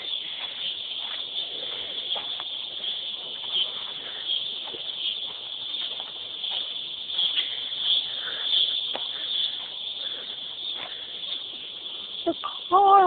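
Cicadas call loudly in a field before a storm, a dense continuous high buzzing drone that holds steady throughout, with faint rustles and scattered clicks beneath.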